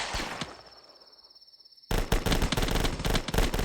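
Uzi submachine gun in a video game: after a quiet stretch with a faint tone, a loud rapid burst of automatic fire starts and keeps rattling in quick, dense shots to the end.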